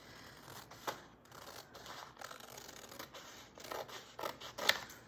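Scissors snipping across a paper page to shape a tab, a few faint, quiet cuts with soft rustling of paper between them, no voice present.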